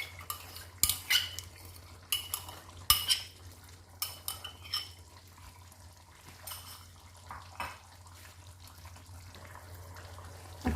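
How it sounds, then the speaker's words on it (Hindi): Yogurt is mixed into achari chicken in a pan with a metal spoon, giving close, irregular clinks and scrapes against the pan over a low steady hum, with no talking. "अब जो हमने दही इसमें डाली थी उसे हम अच्छे से मिक्स कर लें।"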